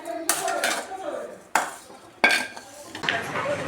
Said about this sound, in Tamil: இப்போ நம்ம இதை எடுத்து ஒரு தட்டில் மாற்றி வைக்கிறோம்.